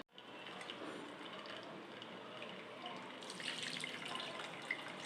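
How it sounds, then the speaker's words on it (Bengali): Cold water runs steadily from a tap over strained chhena, a continuous splashing rush that brightens and grows slightly louder near the end. "এবার আমি একটু জল দিয়ে, ঠান্ডা জল দিয়ে ধোবো"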